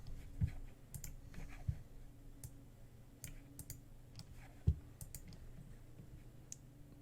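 Computer mouse clicks while working in Photoshop, sparse and quiet: a few sharper, louder clicks at irregular intervals among fainter ones over a low, steady room hum, with no talking.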